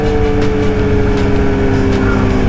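A small car engine of about 1,000cc drones steadily at close range for a few seconds, a continuous running hum with road noise and no pauses.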